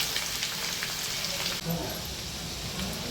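Mustard seeds, cumin and chopped garlic sizzle in hot oil in a wok for a Maharashtrian cowpea-pod stir-fry, a steady close crackling hiss with a brief dip partway through.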